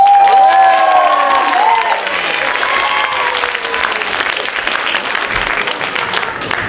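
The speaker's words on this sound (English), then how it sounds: "let's give one more round of applause to all our brilliant band dancers" Audience at a student association pageant applauds the dancers: loud, dense clapping with cheers and high whoops near the start, holding steady across the stretch.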